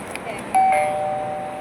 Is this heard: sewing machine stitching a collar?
no